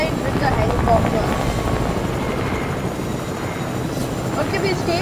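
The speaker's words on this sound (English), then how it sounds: "I'm gonna fly with the helicopter" Continuous rumbling helicopter rotor noise from the game Fortnite, steady and fairly loud, with speech over it.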